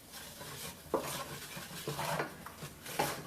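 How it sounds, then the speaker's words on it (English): A utensil scrapes and stirs across the bottom of a pan of brown gravy made from steak drippings, in repeated short rasping strokes with light metallic clinks, close and fairly quiet. "I'm scraping up all the stuff that's stuck to the bottom of the pan"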